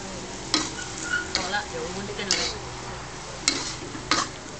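Glass noodles are stir-fried in a hot pan, and a second pan's batch is mixed in. A steady sizzle sits under several sharp scrapes and clinks of a utensil against the pan, close and fairly quiet.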